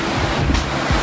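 The Mo Chu river rushes beneath a wooden bridge at Punakha Dzong, a loud, dense roar of moving water mixed with wind buffeting the microphone.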